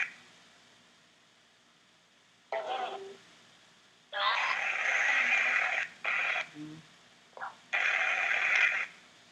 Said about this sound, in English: there's white noise flying out